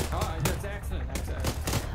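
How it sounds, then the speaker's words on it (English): Crackling bursts of gunfire ring out during a shooting skirmish, a quick volley of sharp cracks mixed under voices of players calling to each other. "Start shooting."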